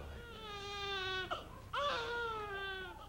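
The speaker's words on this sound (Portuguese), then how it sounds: "ouviu-se o choro forte de Luiz e o bebê havia nascido" A newborn baby cries in strong, wailing bursts, two long harmonic cries with a short catch of breath between them, close and clear with no talking.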